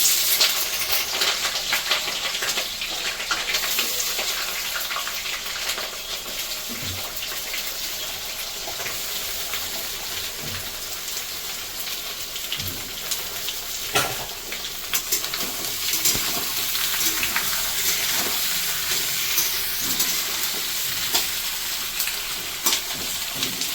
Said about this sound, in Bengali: এবার আমি দিয়ে দেবো পেঁয়াজ। পেঁয়াজ এখানে আছে 700 গ্রাম মতন, একটু পেঁয়াজটা বেশি দেবো।